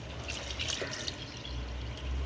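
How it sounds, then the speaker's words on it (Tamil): Water trickles and drips into a cooking pot of chicken biryani with rice and ground almonds, a soft liquid pouring sound over a low background hum. "அடுத்து தண்ணி ஆட் பண்ணிக்கலாம்"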